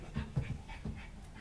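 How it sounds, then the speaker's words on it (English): A dog pants in a quiet indoor county commissioners' meeting room, giving soft, close, rhythmic breathing bursts with a faint whimpery edge and no speech. "I just want to play with the dog."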